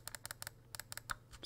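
Side buttons of a Razer Viper Mini mouse clicked in quick pairs, crisp close clicks in a steady rhythm, quiet and isolated.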